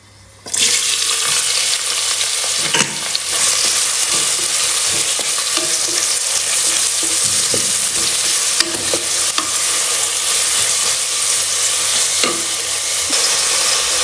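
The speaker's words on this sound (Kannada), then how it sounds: "ಈರುಳ್ಳಿನ ಚೆನ್ನಾಗಿ ಫ್ರೈ ಮಾಡ್ಕೊಳ್ಳಿ" Onions frying in ghee with bay leaf, cinnamon, clove, star anise and cardamom for tomato rice, a loud dense hiss that bursts in abruptly and holds steady, with occasional scrapes of a stirring spoon close by.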